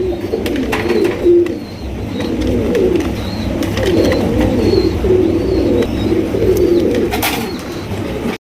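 A black male Lahori pigeon coos repeatedly at close range in a rolling, throaty rhythm, with faint chirps from other birds behind it.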